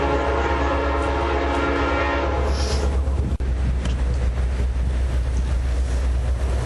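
A train passes close by with a loud, sustained horn blast over the heavy rumble of rail cars, the horn cutting off midway while the rolling roar carries on, with no talk.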